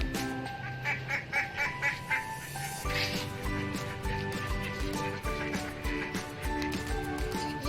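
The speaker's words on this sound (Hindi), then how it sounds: "ये मेरी बतख है" Pet ducks quack loudly and repeatedly nearby, a rapid series of honking calls at first, then denser overlapping quacks continuing throughout.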